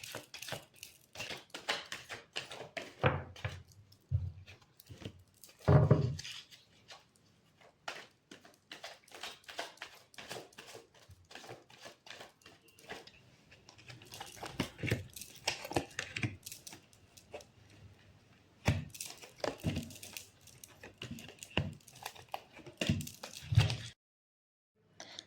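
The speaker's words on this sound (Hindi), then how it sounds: "so let's shuffle the cards" Tarot cards being shuffled by hand, a quiet, close series of soft riffling flicks and slaps repeating in irregular bursts with no talk.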